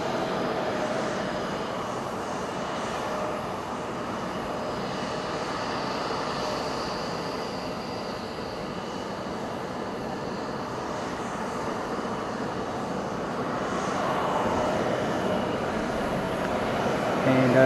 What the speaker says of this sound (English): So this is a Kawasaki trainer